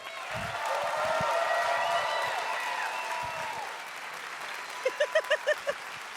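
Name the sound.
audience applause for a comedian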